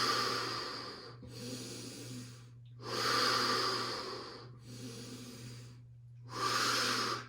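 Deep, heavy breathing during a yoga core exercise, long hissing inhales and exhales in a slow repeated rhythm, close to the microphone over a faint steady hum.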